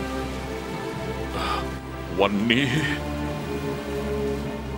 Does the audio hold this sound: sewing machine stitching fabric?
no